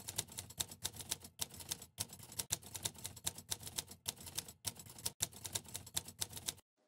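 Rapid clicking of keys on a computer keyboard while entering text for a newsletter layout, a quiet, fairly steady stream of close taps with brief pauses, no voices.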